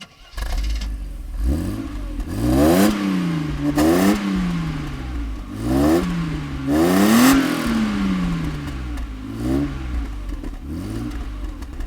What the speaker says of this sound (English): it definitely sounds like an inline six. It's got a kind of rasp to it